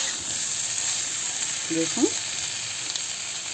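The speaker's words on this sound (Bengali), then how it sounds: "তো এটা এবার একটু ভাজা হোক" Soybean chunks, potato and pointed gourd sizzle with onion in hot oil, a constant close frying hiss, while someone speaks a single brief word over it.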